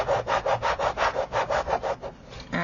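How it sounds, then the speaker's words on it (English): Repeated rhythmic rubbing strokes as paper is burnished down by hand while building an exploding box album, about a dozen even back-and-forth passes, close and fairly loud with no talking. "just burnish that bit down"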